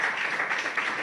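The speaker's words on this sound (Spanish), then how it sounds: "dele ese aplauso al Señor si lo has creído" Church congregation applauding during a Spanish-language sermon, a short, dense burst of many hands clapping at a steady level.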